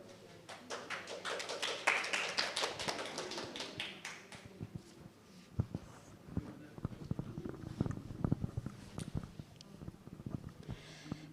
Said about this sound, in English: Big applause for Mrs. Laili Rahmatul Ilmi.